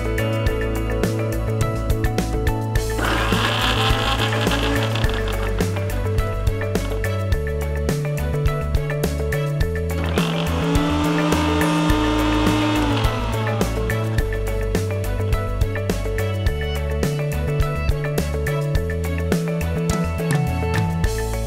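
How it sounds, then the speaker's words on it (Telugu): An electric mixer grinder grinds ginger, cumin, curry leaves and chillies with a steady, loud motor whine and rattle, rising to two harsher surges partway through. "ఈ ఐటమ్స్ మనము గ్రైండ్ చేసుకోవాలి."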